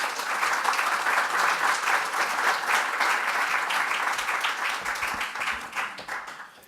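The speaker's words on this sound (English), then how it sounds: "Give Ron a round of applause." Warm round of applause from an audience welcoming a police leader to the podium at a law enforcement event, loud and close, with individual claps audible in a full, steady ovation that eases off near the end.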